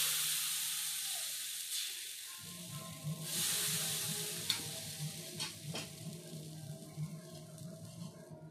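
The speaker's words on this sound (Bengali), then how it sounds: "এবার আমি এর মধ্যে ব্যাটারটা দিয়ে দিচ্ছি।" Rice flour batter for chitoi pitha hits a hot oiled pan with a sudden loud sizzle, which then settles into a steady hiss of frying with a few soft clinks and pops.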